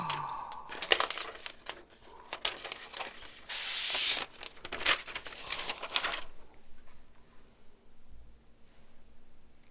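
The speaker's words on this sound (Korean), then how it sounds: "이제 한번 이 비닐까지 뜯어보도록 하겠습니다" Thin plastic wrap peeled and torn off a new iPad mini box in a quiet room, with close crinkling, sharp tearing and a brief hissing rip, then soft faint handling noises as it settles.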